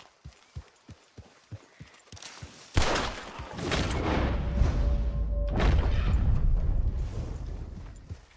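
Video game gunfire played on an HP Pavilion 16-a0020ca gaming laptop: a run of sharp, evenly spaced shots at first, then a loud sustained burst of firing and rumbling blasts that fills the rest, close and without talk.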